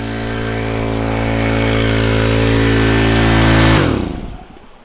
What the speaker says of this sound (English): Run down and shut off this pump without falling down the hill.